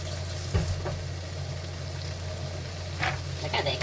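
Whole Roma tomatoes drop into a pan of chicken karahi, bringing a brief splash and clatter over a steady frying sizzle, with a few stirring knocks after.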